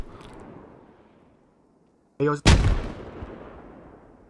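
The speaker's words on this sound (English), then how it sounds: "That's a grenade." A grenade explodes in the military shooter game Squad: after a quiet lull a brief sharp crack is followed by a loud booming blast that rolls off slowly, with no talking.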